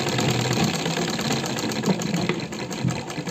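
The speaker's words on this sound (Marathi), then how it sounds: "त्यानंतर ही कडच्या बाजूने शिलाई मारायची" A sewing machine runs steadily along the edge of a piece of fabric, its close, continuous mechanical whirr holding an even pace throughout with slight rhythmic knocking.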